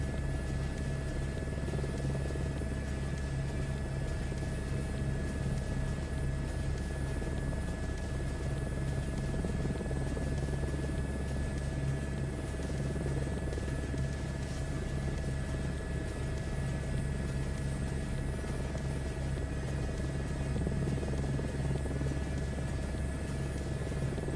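A helicopter's rotor and turbine drone steadily throughout a gentle landing in Microsoft Flight Simulator 2024, a constant low rumble with a sustained high whine, loud and unbroken, with no voices.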